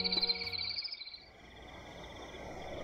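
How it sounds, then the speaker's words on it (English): Crickets chirp in a thin, high, pulsing trill that stays soft and continuous over faint background hiss, with no other sounds. "the sound of crickets kept playing over the scene."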